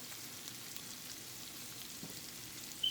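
Shrimp sizzle in a hot pan for shrimp with broccoli in garlic sauce, a steady, faint frying hiss that runs throughout with no voices.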